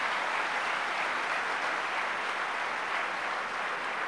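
Continuous audience applause at a concert for a tabla maestro, a dense, steady roar of many hands clapping with no pauses and no voices over it.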